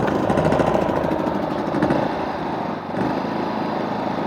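A new Generac GP3300i inverter generator is started on choke, its small engine running with a steady, loud, buzzing drone close by, the tone dipping briefly before settling back to an even hum.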